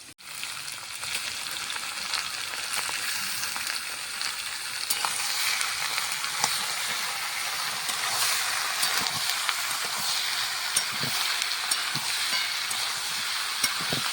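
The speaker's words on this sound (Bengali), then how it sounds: "এখন ওই মাংসটা এর মধ্যে দিয়ে দিচ্ছি, পেঁয়াজের মধ্যে" Mutton fries with a large amount of sliced onion in a pan for a dopiyaza, giving a steady close sizzle throughout, with occasional soft stirring scrapes and no talking.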